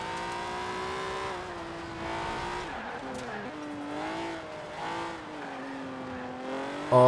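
A retro Alfa Romeo in the Forza Horizon 4 racing game revs loudly, its engine note rising and falling through gear changes with a brief tire squeal, heard continuously and alone.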